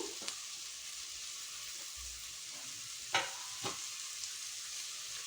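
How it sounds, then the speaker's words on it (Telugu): Egg fries in a pan with fenugreek leaves and coriander, a constant soft hiss broken by a couple of brief spatula scrapes midway, quiet and near, with no speech. "ఇప్పుడు మెంతి ఆకు వేసి అండ్ కొత్తిమీర వేసి ఫ్రై చేసుకుంటున్నాము"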